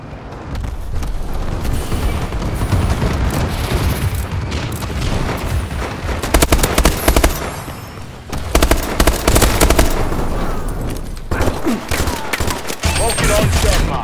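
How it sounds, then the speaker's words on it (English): Explosions from a bombing run in the video game Call of Duty: Advanced Warfare, a dense, loud barrage of booms and blasts that rolls on almost continuously with brief lulls. "Friendly bombing run incoming."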